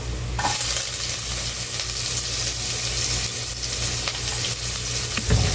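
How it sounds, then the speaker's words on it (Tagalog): Garlic sizzles steadily in hot oil while being stirred until golden for adobong sitaw, a close, continuous frying hiss with occasional scrapes and clinks of the utensil against the pan. "Haluin lang natin hanggang sa lumabas yung kanyang aroma. At mag-golden brown na siya."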